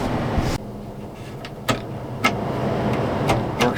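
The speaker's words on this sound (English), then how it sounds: "the fan's working now, as you should be able to hear" A car's electric cooling fan runs with a steady whir after a corroded fuse in a corroded holder is touched. A few sharp clicks and knocks sound close by over the whir, and no one speaks.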